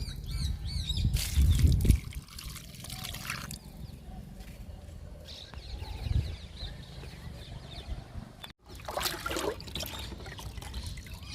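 Liquid fertilizer poured onto a potted lemon plant, a close splashing and trickling pour in uneven bursts, with birds chirping faintly in the background.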